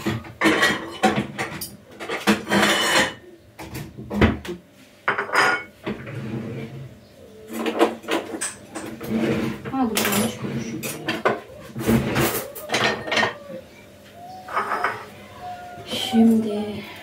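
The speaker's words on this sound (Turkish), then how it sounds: "Tabağa doğrayayım." Knife chopping food straight onto a plate in a home kitchen, with repeated close, uneven clacks of metal on dishware and brief rattling pauses in between.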